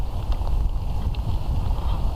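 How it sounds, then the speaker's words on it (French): Light evening wind at an outdoor bivouac with a hammock and tarp, a soft continuous rushing with low gusty rumble against the microphone and faint scattered ticks, no speech. "Il y a un peu de vent ce soir"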